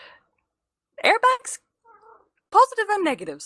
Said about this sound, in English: Whose cat is that? That's my cat.